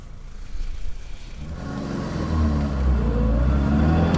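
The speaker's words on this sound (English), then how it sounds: "I'm in second gear, nice acceleration." A 1971 BMW 2002 pulls hard through its gears, the engine note climbing steadily from a low rumble into a louder, rising rev with audible pitch sweeps, heard from inside the car with no talking.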